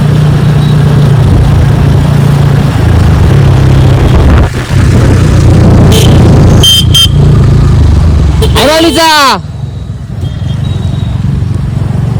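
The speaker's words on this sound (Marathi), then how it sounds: "गाडी गेली भाई. तुफान गाडी गेली" On a village road in India, a vehicle roars past up close, loud engine noise swelling then fading, with a brief horn toot as it goes by.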